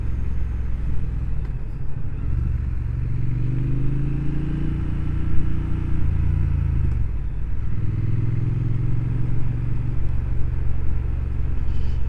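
A Triumph Speed Twin 1200 motorcycle engine, the 2025 RS model, rumbles close up as it pulls through the gears, its tone rising and falling in clear sweeps under steady wind noise.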